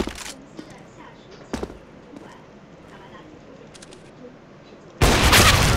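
Gunfire in the CS:GO video game, a few sharp shots early on and then a sudden loud, sustained burst of fire at the end, over a low background hum.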